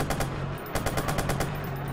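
Machine gun fire aimed at a helicopter in the video game Watch Dogs: rapid bursts of loud, rhythmic shots close up, broken by a brief pause, with no talking.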